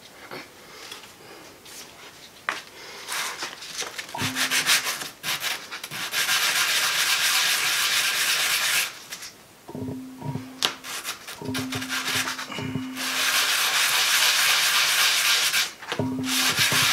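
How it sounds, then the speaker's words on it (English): Hand sanding of an etched metal piece: sustained, loud gritty rubbing strokes in long bursts with brief pauses, close up and alone without talk. "I'm gonna sand this down a little bit and we'll see how it looks."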